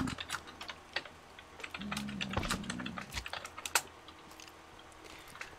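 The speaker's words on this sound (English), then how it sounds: "Oh, the clicking." Rapid computer keyboard and mouse clicking during a Minecraft game, a quick irregular run of close, sharp taps with a few louder strikes, heard on its own without talk.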